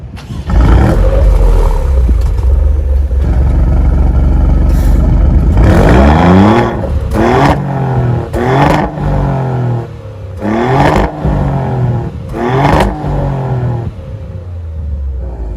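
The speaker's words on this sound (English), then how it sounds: "Put it in Corsa mode, and we should probably give it a couple of blips just to turn some non-believers into believers" A 2024 Maserati GranTurismo Trofeo V6 in Corsa mode starts with a long loud rumbling idle, then several sharp revving blips rise and fall in quick succession close by.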